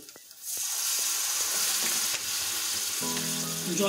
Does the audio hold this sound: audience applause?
no